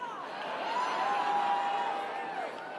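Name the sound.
large crowd cheering at CPAC conference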